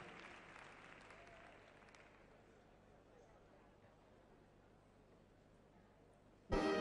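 Applause for tango couple 506 from Buenos Aires at the 2021 world tango championship: the clapping is already thinning and fades into quiet room noise, then a sudden loud burst cuts in at the very end.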